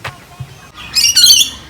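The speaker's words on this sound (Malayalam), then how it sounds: "പാരറ്റ്സ് ആണ്. So beautiful. മൾട്ടി കളേഴ്സ് ആയിട്ടുള്ള." Parrots in a cage at Featherdale wildlife park give a burst of loud, harsh squawks, preceded by a couple of softer bird calls and faint background noise.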